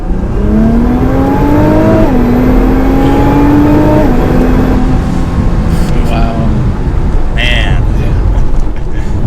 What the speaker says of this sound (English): let's do another acceleration. Second gear.